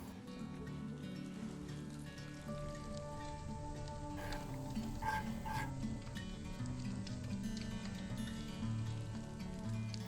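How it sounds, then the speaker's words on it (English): Nduja dressing with red wine vinegar and honey bubbling in a pan over a fire pit, a faint, steady sizzle and soft popping running on alone, with no talk. "Bring it back up to a bubble."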